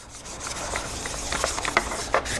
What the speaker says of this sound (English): I'm gonna use a 2000 grit sandpaper. I'm just gonna give it a light